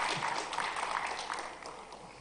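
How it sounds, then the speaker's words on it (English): Steady, dense applause from an audience welcoming a speaker onto the stage at a tech talent event, a continuous wash of many hands that holds at an even level and tapers slightly toward the end. "Can we all give a huge round of applause as we welcome her on the stage"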